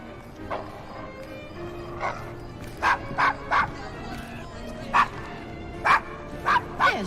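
Desmond, a dog in Assassin's Creed Syndicate, lets out a run of sharp yips and barks, several in quick pairs, fairly close over a quiet game background.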